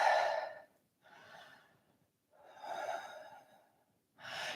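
Slow, deep yoga breaths close to the mic: a strong inhale-exhale, then a softer breath, a long drawn-out breath, and another starting at the end, separated by brief silences.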